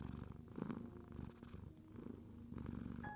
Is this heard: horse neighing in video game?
no